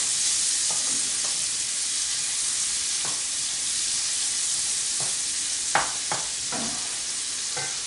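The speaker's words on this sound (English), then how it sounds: "Get that nice sauteing noise." Shallots sauteing in a pan give a steady, fairly quiet sizzle and hiss, with a few soft stirring scrapes and taps near the end and no voices.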